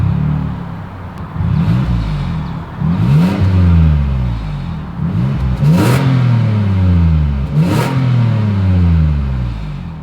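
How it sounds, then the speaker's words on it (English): A 2022 Toyota Highlander Platinum SUV engine revs hard several times, each burst of exhaust rising in pitch and falling back to a rumbling idle, loud and close. "As always, here is that exhaust clip."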